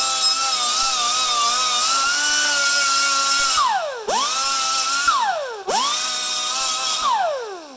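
Power tool deburring a freshly cut edge of thick metal in a fabrication shop, a loud steady whine that drops in pitch under load, then two short bursts that spin down and rev back up.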